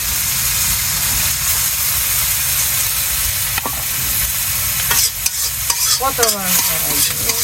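Cumin seeds and onion fry loudly in a pan, a constant close sizzle and hiss with scraping stirring strokes growing busier toward the end.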